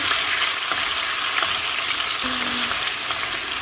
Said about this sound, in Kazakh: Енді жай отта қуыратын боламыз.